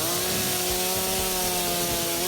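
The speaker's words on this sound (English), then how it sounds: "We carry chainsaws, we carry tools" A chainsaw runs steadily while volunteers fight a wildfire, a loud continuous whining engine drone with no pauses and no talk.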